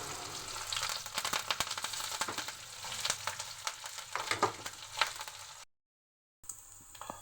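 Onions and curry leaves fry in a pan with a crackling, spitting sizzle and frequent small pops, moderately close, before a brief silent break and a quieter resumption.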